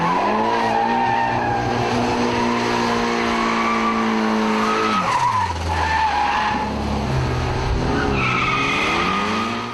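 A race car launches off the line at a drag race, its engine screaming loud and close with squealing tires, the pitch climbing, dropping at a gear change, then rising again.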